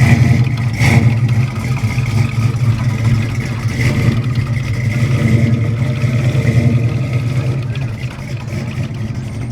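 An old right-hand-drive AMC mail Jeep rolls past at a car cruise event, its mid-pitched engine droning steadily and fairly loud amid crowd hubbub and clatter, easing off slightly near the end.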